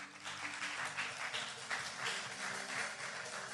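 Congregation applauding in a church, a steady dense wash of clapping hands with no talk, fairly even in loudness throughout.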